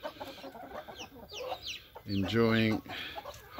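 Cornish cross chickens cluck among other fowl, with a louder, harmonic rooster-like call rising briefly in the middle over a busy background of scattered clucks and faint talk.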